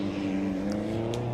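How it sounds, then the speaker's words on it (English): Supercharged V8 race cars roar at full throttle, a loud, steady engine drone with strong low harmonics filling the whole short moment. "Both of them supercharged V8s."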